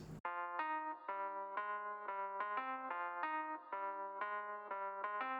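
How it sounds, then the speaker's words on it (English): An electric piano preset from Whirly, called You're my best friend future, plays a MIDI lead line: repeated sustained chords and notes in a steady rhythm, clean and upfront, with no voices. "some sort of electric piano from Whirly."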